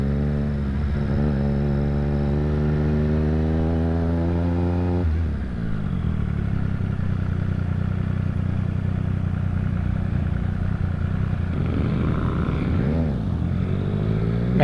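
A Triumph Street Triple R motorcycle engine holds a steady, rich rumble below 6,000 RPM, with a slight shift in pitch partway through and light throttle changes near the end, up close and continuous with no talking.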